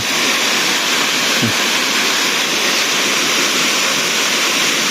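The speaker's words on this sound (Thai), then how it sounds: "มีสายน้ำอยู่ในแคมทาง" A stream of water runs beside a stone-paved road in rural northern Laos, giving a steady, broad rushing wash that holds evenly throughout with no other clear sounds over it.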